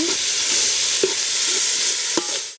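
Ginger-garlic paste frying in a pan for coconut pulao with prawns, cooked outdoors: a steady close sizzle with a few soft stirring scrapes, no voices.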